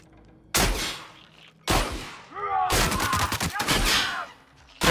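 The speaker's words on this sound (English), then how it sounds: "most of those shots were ineffective, to say the least" Gunfire in the video game The Outer Worlds: sharp bursts of shots land in three clusters, the last a rapid volley, with a brief whooshing tone between, loud and close.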